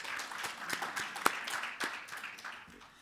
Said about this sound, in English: Another round of applause for the Director General.